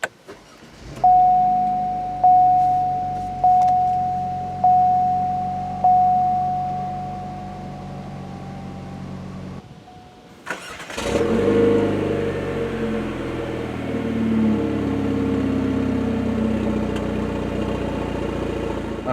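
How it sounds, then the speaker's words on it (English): A 2016 Buick Envision Premium II opens with a row of evenly spaced warning chimes inside the cabin, then goes briefly quiet. A push-button start follows, and the engine catches and settles into a steady, moderately loud idle. "all you need to do to start the car is make sure the key's in the interior, put your foot on the brake, and hit the start button"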